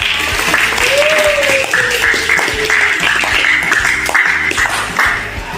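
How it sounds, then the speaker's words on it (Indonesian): Students in a classroom clap for a classmate, a loud, continuous patter of many hands mixed with some background chatter and a brief tonal sound early on. "tepuk tangan buat Reva"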